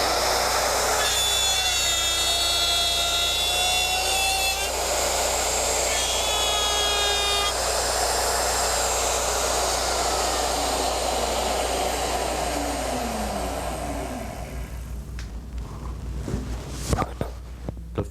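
Router fitted with a guide bushing cuts a female dovetail slot on a Porter Cable Omnijig 5116 dovetail machine, a loud, steady whine lasting many seconds before winding down and stopping near the end.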